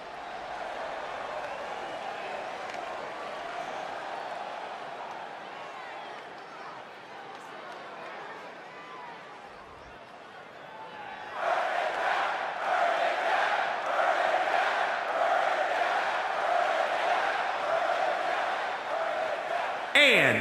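Wrestling arena crowd at a televised match, a steady roar of cheering and chatter that swells louder about halfway through and stays loud to the end.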